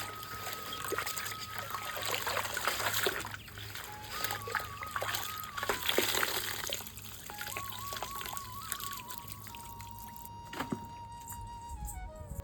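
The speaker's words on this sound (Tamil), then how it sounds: "அப்புறம் இன்னொரு மாலையும் அலசிக்கிறேன்" Water trickling and splashing as a vetiver garland is rinsed by hand, with steady dribbles and splatters close by, a low hum and tones running underneath.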